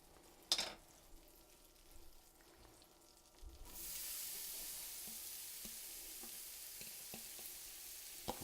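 Zucchini noodles cook in a pan on medium heat. A few quiet taps and clinks are followed by a soft sizzle that rises and then holds steady and fairly faint, with occasional light clicks.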